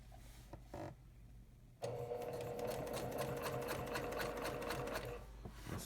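Close by, a sewing machine runs one continuous stretch of rapid stitching along a pinwheel quilt border with mitered corners, preceded by faint handling sounds.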